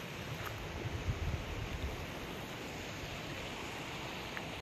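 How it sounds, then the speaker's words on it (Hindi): A small waterfall near Nainital Lake gives a faint, even wash of flowing water, soft and distant, with no voices over it. "देख सकते हो यहाँ झरना है छोटा सा।"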